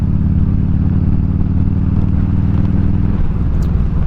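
A Harley-Davidson Evo Road King motorcycle rumbles loudly and close, its V-twin engine throbbing steadily as it pulls, with a slight change in pitch near the end; no talking.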